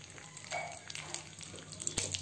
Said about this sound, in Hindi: अब इसमें राई डाल देंगे